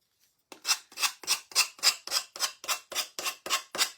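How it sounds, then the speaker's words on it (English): Eleven or so rhythmic rasping strokes of sandpaper taking paint off wooden edges, evenly spaced and close up, each swelling and fading, with no talk. "we're going to give it a good sanding around the edges"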